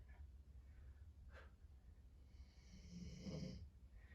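Soft, rasping snores rise through a low steady hum, one drawn-out breath building near the end, heard faintly at a distance.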